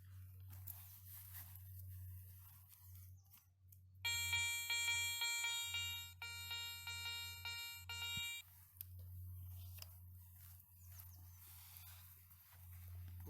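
A Garrett Ace 400i metal detector sweeps over a buried 1840 silver 10-groszy coin in soil, giving repeated bright electronic tones in two bursts, loud and close over a steady low hum.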